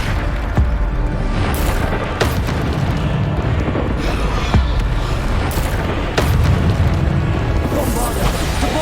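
Bombarda spell blasts in Hogwarts Legacy combat sound as loud, booming explosions. A few sharp impacts cut through a continuous rumbling roar of spell effects.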